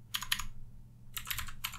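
Computer keyboard typing in two bursts of quick, close key clicks separated by a short pause, fairly faint and with no voices.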